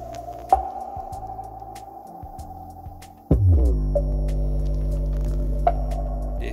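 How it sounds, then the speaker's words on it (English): A Harman Kardon Onyx Studio 8 speaker plays at maximum volume with bass boost on, a thin tone giving way abruptly to a deep, loud, sustained bass drone that holds steady to the end. "So this is the sound test at max volume with bass boosted activated."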